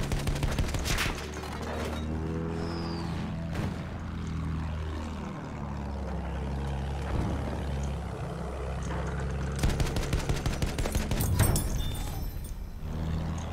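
Pistol gunshots in the video game Battlefield 1: sharp rapid shots burst out near the start and again late on, partly buried under a loud, steady propeller-aircraft drone.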